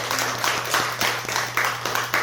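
Audience clapping during a Buddhist dharma talk at a temple, a steady crowd applause of many hands sustained throughout, with a low constant hum underneath.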